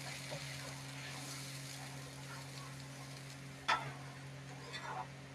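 Fish curry with potato and Malabar spinach stirred in a pot, a faint simmering bubble with a few soft scraping strokes and one sharper clink of the spoon, no voices.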